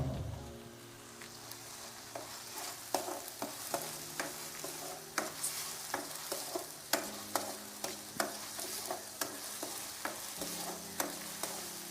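Curry leaves fry in hot oil for a fish curry, making a soft, even sizzle while a spoon scrapes and taps the pan again and again in an uneven rhythm, close up and with no voices.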